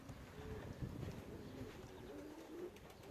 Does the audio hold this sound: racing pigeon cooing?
yes